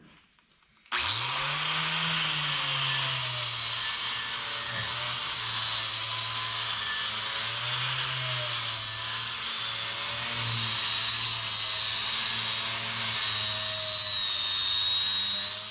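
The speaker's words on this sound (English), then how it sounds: "So I used a wire brush for this instead of like a flap disc." Wire brush on a power tool scouring mill scale off steel tubing: the motor spins up suddenly, then a loud, steady, gritty whine runs on, its pitch wavering slightly as the brush bears on the metal.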